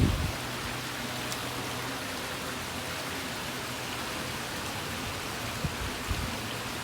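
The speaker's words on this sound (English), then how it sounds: "I didn't know it was raining" Steady rain falls outside onto an open patio, a constant even hiss with a few faint drips and knocks, no talking.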